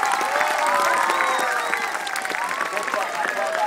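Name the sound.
audience applause at a wildlife sanctuary show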